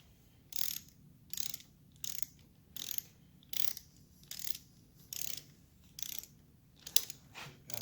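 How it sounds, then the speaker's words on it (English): A torque wrench ratchets on the through bolts of a 1975 Norton Commando Mk3 engine top end, about a dozen regular close bursts of clicking, each a short pull separated by brief pauses. "We're getting ready to torque down the through bolts."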